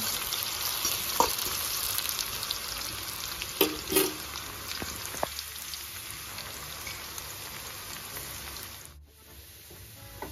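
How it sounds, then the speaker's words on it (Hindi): Onions frying until brown for a tempering, a steady soft sizzle with occasional pops and a few light clinks, quieter near the end and without speech. "प्याज को जो है मुझे ब्राउन करना है।"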